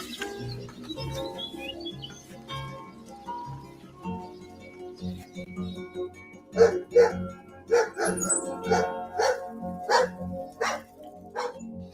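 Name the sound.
dog barking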